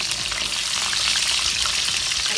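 Garlic and ajwain frying in hot oil for an aloo methi dish, with a steady, loud sizzle and crackle and no talking.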